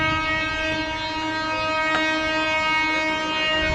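A train horn sounds as a steady, loud, sustained tone with strong harmonics, holding throughout alongside the rumble of the passing train.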